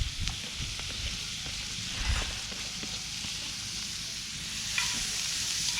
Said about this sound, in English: then we're gonna stir in all of that onion that we chopped up earlier